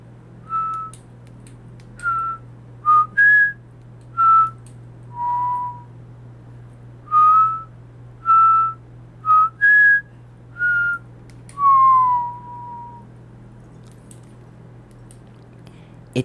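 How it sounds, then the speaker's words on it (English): Eerie whistling in a spooky Halloween setting: a series of short, separate whistled notes, some rising or sliding, repeats at irregular intervals over a steady low hum. The whistles are clear and moderately close. "At exactly 3:03, we heard the whistling."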